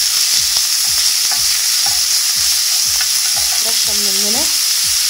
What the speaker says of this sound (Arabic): انا حميت المقلاي، حطيت الزيت الزيتون وبنزل بالبصل على طول.